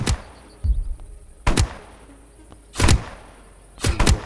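A gun in the Roblox-style survival game 99 Nights in the Forest fires four separate sharp shots, each a loud punchy burst with a short decay, spaced about a second apart over a quiet background.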